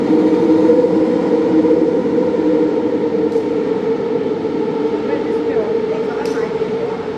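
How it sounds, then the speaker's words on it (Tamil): A steady low drone fills an LRT train station at Pasar Seni in Malaysia, with faint background activity and occasional light clicks over the constant hum. "இதுதான் எல்ஆர்டி ஸ்டேஷன் பாருங்கோ"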